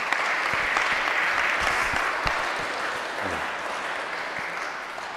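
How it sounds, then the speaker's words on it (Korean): A church congregation at a Sunday service bursts into dense, sustained applause to congratulate a member on earning his doctorate, many hands clapping steadily and close, slowly easing off toward the end. "다 같이 축하의 박수 부탁드립니다."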